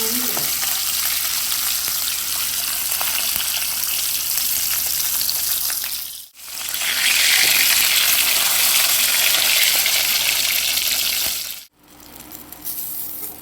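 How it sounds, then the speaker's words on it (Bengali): Spicy masala-coated pomfret fish frying in oil, a loud, dense, steady sizzle close at hand, interrupted twice by brief near-silent gaps, with no talking. "বাকি মাছগুলো আমি ভেজে নেব"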